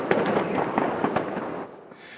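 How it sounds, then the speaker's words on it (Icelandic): Blank shots fire from a ship's cannon as a harbour salute in a city harbour, giving a sharp crack followed by rolling, crackling booms that fade after about a second and a half. "púðurskotum var hleypt af fallbyssu"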